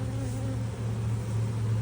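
Honey bee swarm humming inside hive frames in Millbury, Massachusetts, a steady low buzz heard up close and held level for a couple of seconds.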